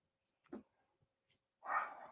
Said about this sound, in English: I don't know what she's woofing about.